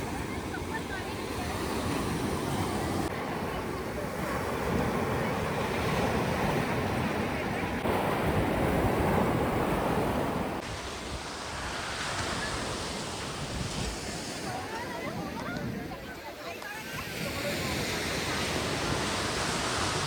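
Ocean waves break steadily at Umarsadi beach near Valsad at sunset, a continuous surf wash with rising and falling swells and some wind buffeting on the microphone.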